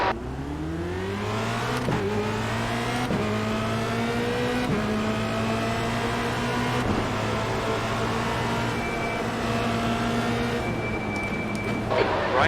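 A race car in iRacing launches from a standing start, its engine pulling hard through rising revs with sharp drops at each upshift, a loud continuous roar heard with other cars around it.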